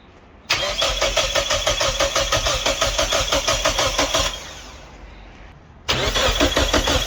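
A turbocharged Mitsubishi 4G93 engine in a Lancer cranks steadily for about four seconds on starting fluid sprayed into the plenum, a rapid rhythmic whirring. It pauses briefly, then cranks again, loud and close, with no voices.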